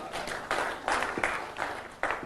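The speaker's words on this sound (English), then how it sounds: "Whoever he is, he just got applause." A small audience at an aviation training session applauds, with bursts of clapping rising and falling in a few uneven surges, fairly quiet and brief.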